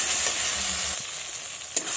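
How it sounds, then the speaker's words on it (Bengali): Spice paste and fried potatoes for a duck egg curry being sautéed in oil, a close, steady sizzle with scraping stirs and a brief clack of the spoon against the pan. "এইভাবে আর একটু কষিয়ে নেব।"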